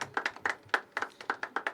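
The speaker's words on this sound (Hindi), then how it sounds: "एक बार जोरदार तालियां उनके लिए।" Audience at a poetry open mic claps in a short burst of about a dozen sharp, fairly close hand claps spread irregularly across under two seconds, moderately loud with no talk over them.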